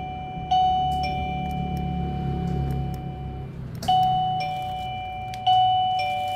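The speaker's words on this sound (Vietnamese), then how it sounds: "Cái này gọi là chuông cổng các bác nhá." A wireless gate doorbell chimes three times, each press giving a bright ringing tone that sustains and fades before the next, loud and close with no voices.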